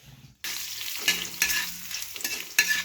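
Puffed rice (mamra) is tempered in a hot pan at home: loud, continuous sizzling and crackling that begins abruptly after a short quiet moment, broken by several sharp stirring scrapes and rattles, with no talking.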